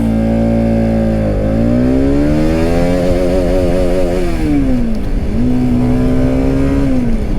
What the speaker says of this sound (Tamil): ஃபஸ்ட் கியரில் வந்து எவ்வளோ டாப் போகுது வண்டி அப்படின்றது தான் இப்போ நம்ம செக் பண்ண போகிறோம்.